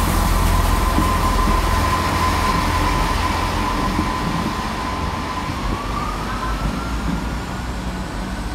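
A train rumbles loudly and steadily through Nottingham Midland station, wheels grinding with a sustained metallic squeal that shifts pitch as it slowly passes.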